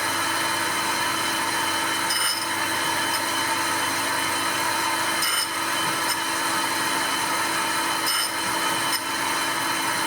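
A grinder runs continuously at close range while sharpening milling cutters, a steady high whine with faint periodic ticks repeating every few seconds.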